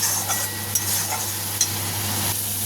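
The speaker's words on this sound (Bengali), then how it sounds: "মশলাটাকে ভালো করে কষে নিতে হবে।" Spice paste frying and being stirred in a pan while cooking chole with potatoes, a steady low sizzle with occasional soft scrapes of the spoon, close and continuous with no voices.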